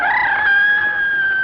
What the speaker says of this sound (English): Now, you chickens stay in there, you understand?